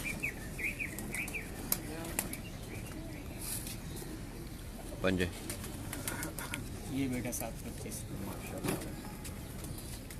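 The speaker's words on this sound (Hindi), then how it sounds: "साल कबूतर है मंसूर भाई का पीले दुम के नाम से मशहूर है" Pigeons on a rooftop loft in a crowded outdoor setting give scattered chirps and soft calls, with someone talking over them throughout.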